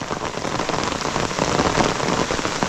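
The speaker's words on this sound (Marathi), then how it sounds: "कारण मोठा पाऊस आला आहे" Heavy early-monsoon rain pours steadily through a Konkan forest, a dense, even hiss of drops drumming on leaves and surfaces without pause.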